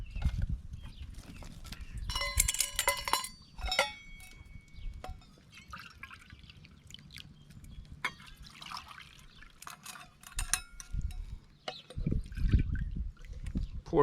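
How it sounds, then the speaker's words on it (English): Water poured onto a biomass stove, intermittent splashes and trickles in short bursts, with hissing and dripping between them, close by and mostly alone. "pour some water."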